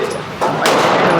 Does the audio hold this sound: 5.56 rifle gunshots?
yes